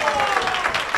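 A pool hall crowd applauds a strong carom shot in a Premier League Pool final, a short burst of dense clapping with a commentator's voice running over it.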